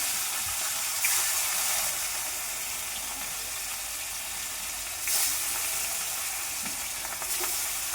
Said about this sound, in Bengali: আবার বাকি মাছগুলো ভেজে নেবে।